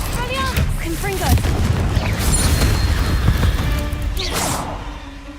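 A Confringo blasting curse explodes in Hogwarts Legacy, a booming burst amid ongoing spell combat, with rumbling low impacts and a voice speaking over the noise.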